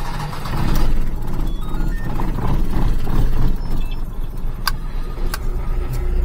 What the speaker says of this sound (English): Don't know why it starts so hard, but it sure as hell feels like it's flooded out.